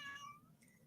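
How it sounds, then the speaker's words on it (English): A pet cat gives one short, faint meow indoors, a quick rising-then-falling cry followed by quiet. "my cat wants to talk"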